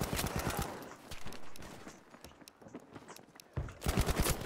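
Gunfire in the shooter game Battlefield V: rapid bursts of automatic shots at the start and again at the end, with scattered single shots and quieter gaps between.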